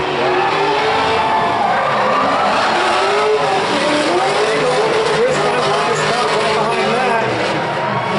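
Powerful V8 race car engines roar and rev loudly and continuously, with tire squeal and a voice talking over the din throughout.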